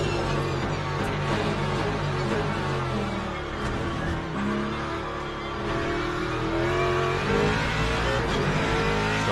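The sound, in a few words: race car engine in Le Mans Ultimate racing video game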